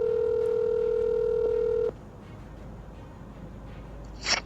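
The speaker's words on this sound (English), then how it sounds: "let's make a phone call" A steady telephone dial tone hums loud and unbroken for about two seconds, then cuts off abruptly, leaving a quiet line with a faint click near the end.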